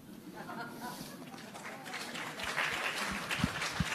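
An audience at a political debate breaks into applause, scattered claps building into a fuller, closer round of clapping with some voices mixed in underneath.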